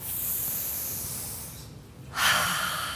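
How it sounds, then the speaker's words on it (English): A deep, audible breath is taken close to the microphone, a long airy inhale followed after a short pause by a louder breathy exhale, with no talking. "So let's all take a deep breath."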